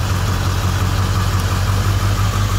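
A Ford 7.3 Powerstroke diesel truck idles close by with the number 8 injector disabled, a loud steady low rumble with a rough, slightly uneven knock throughout.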